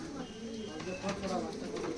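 A pair of golden pigeon babies in a loft coo softly in short, low murmuring calls, faint and close, partly under someone talking.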